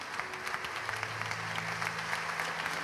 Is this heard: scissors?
no